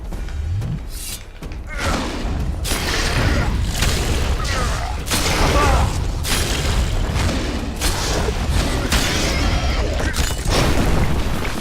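Loud booming blasts and heavy thuds in The Witcher video game, repeated bursts over steady rumbling game sounds, near and forceful throughout.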